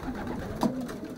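A single soft pigeon coo, low and throaty, heard close by over faint background noise.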